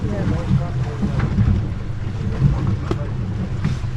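Steady wind buffets a fishing boat out at sea in winter, a loud continuous roar of gusts and microphone rumble with water wash underneath.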